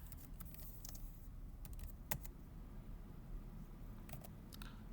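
Quiet, sparse clicks of typing on a computer keyboard while entering build commands in a Linux terminal, with a few sharper keystrokes against a low steady background hum.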